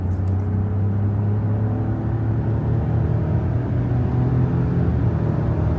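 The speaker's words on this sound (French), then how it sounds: "j'appuie sur l'accélérateur" A Ford F-150 pickup weighing about 3.2 tonnes, driven in Canada, accelerates with a steady, deep engine rumble that holds constant and close throughout, with no speech.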